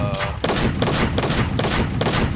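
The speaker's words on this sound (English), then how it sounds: "show you the semi-automatic version of it. Again, this is a 8-gauge shotgun" A semi-automatic 8-gauge shotgun in Arma 3 OPTRE fires six loud booming shots at a steady, even pace, each blast running into the next over a dense, continuous roar.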